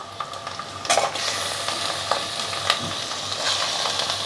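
Mutton added to fried onions in a pot, sizzling steadily with a bright hiss and crackle, punctuated by a few sharp clacks and scrapes of a spoon as the meat is moved around.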